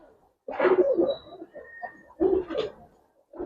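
Pigeons cooing in a cage on a pigeon farm: two close, soft throaty coos in a quiet setting, each about half a second long and a second or so apart, followed by a fainter third call.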